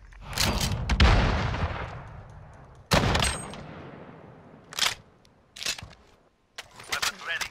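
Gunfire in Call of Duty: Modern Warfare 2019 multiplayer, a few heavy close shots with decaying echo followed by scattered sharper bursts, loud and intermittent.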